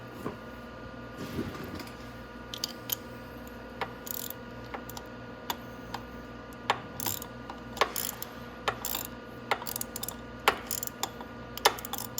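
A ratchet is worked on a Venom X22GT 250cc scooter engine during a top-end valve job, giving irregular light clicks and ticks over a quiet room hum, close and sparse.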